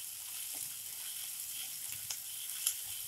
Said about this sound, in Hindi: अब इन सारे इंग्रेडिएंट्स को हम प्याज के साथ 2 मिनट तक स्लो फ्लेम पे भून लेंगे